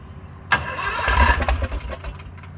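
An airboat engine cranks briefly, then catches and settles into a loud, rough running roar that holds steady and wavers slightly for a couple of seconds.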